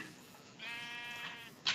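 A single Minecraft sheep bleats once in the video game, a wavering nasal cry lasting under a second, followed by a brief sharp click; quiet background otherwise.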